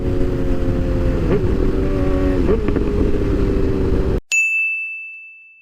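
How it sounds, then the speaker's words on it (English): A motorcycle engine holds a steady drone with brief throttle blips while downshifting, then cuts off abruptly and a single clear ringing chime follows. "If you blip the throttle while you pull in the clutch, you're gonna match those RPMs"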